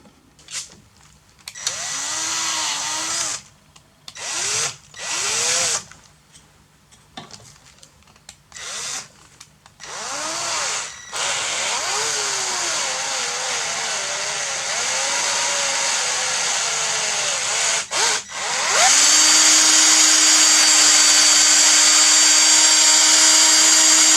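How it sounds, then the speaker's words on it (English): A handheld power drill drilling a hole for a bushing whirs in short bursts, stopping and starting several times, then runs steadily and rises to a higher, sustained whine at the end. "slowly drill a hole in and hope for the best that it's centered"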